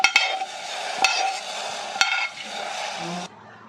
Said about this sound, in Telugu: కప్పులోనే సేమియా వేసుకొని వేయించుకోవాలి నెయ్యి ఉంది కాబట్టి ఇదే కప్పులో సేమియా ఇట్లా ఫ్రై అయిన తర్వాత